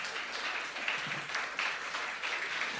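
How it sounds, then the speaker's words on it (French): Applause from an audience at a French-language religious talk, a soft, distant wash of clapping that holds steady and rather faint from start to end. "Est-ce qu'on peut applaudir Mario?"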